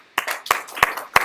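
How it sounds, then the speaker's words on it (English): Four or five sharp hand claps in quick succession, close and crisp, with brief gaps between them and no voices. "Clap it down."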